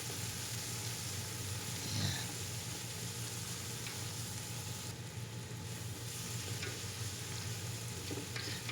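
Anchovies and bagoong alamang shrimp paste from Pangasinan being stirred as they fry in a pan, a steady close sizzle with scraping spatula strokes throughout, no voices.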